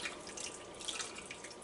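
Water trickles and splashes over pork belly in a pot, a soft, steady pouring with scattered drips heard close up and fairly quiet, with no voices.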